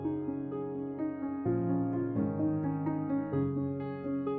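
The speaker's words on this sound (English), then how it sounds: "the main sample is this piano loop I found" Original piano loop sample heard on its own before any warping, a steady sequence of sustained chords changing every second or so at moderate, even loudness.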